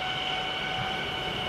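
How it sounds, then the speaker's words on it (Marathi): Local commuter train running near Kopar station in the RG Train Tech Demo video game, a steady, loud, continuous rumble with a sustained electric whine and no break or talk over it. "बघा अजून एक लोकल आली आहे"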